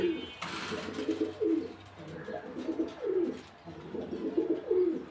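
A breeding pair of pigeons from a Bangladeshi fancier's loft coo in repeated low, rolling phrases, close and steady over several seconds.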